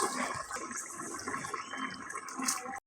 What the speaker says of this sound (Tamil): இந்த அரிசியை இப்போ இதில் சேர்த்துக்கலாம்.